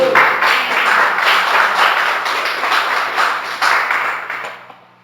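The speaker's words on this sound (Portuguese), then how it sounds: "Você pode aplaudir o Senhor Jesus?" A church congregation applauding Jesus during a sermon, loud, dense clapping from a large crowd sustained for several seconds before fading out at the end, no talking.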